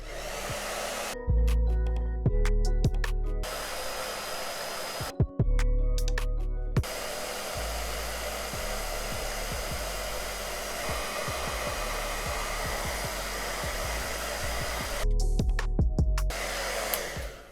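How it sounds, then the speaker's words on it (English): A hair dryer blows on medium or high heat to dry curly locs set on perm rods, a steady loud rushing whoosh, with brief dips in the airflow near the start and end as it is moved around. "I'm just gonna keep mine on like medium or high"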